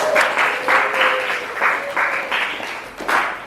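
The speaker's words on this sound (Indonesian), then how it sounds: "Beri aplaus untuk kelompok 2." Classroom of students applauding a group of pupils, a steady burst of clapping in several swelling waves, fairly close and loud, with no talk over it.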